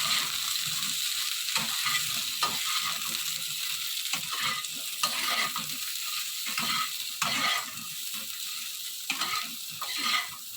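Cauliflower being lightly fried in oil in a pan for a poppy-seed vegetable dish, a continuous crackling sizzle broken by repeated stirring and scraping strokes of a spatula.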